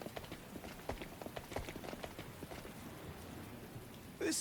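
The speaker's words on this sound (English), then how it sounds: "His despondent words echoed and melted away into the sound of the rain pouring down." Rain pours down steadily in the video game The Hundred Line: Last Defense Academy, a soft continuous patter of drops with a brief louder burst at the end.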